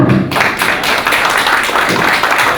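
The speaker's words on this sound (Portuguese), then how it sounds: "Então já puxamos até aqui um aplauso para esse comandante" Dense, steady applause fills the whole stretch at even loudness, a crowd clapping for a police commander at a breakfast gathering.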